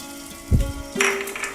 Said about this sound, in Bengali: চিনিটাও একটু মশলার সঙ্গে ভাজা ভাজা করে নিই